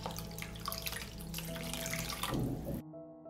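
Tap water, 250 milliliters, running steadily into a pot of cream soup with beef cube, a continuous close splashing flow that cuts off abruptly near the end.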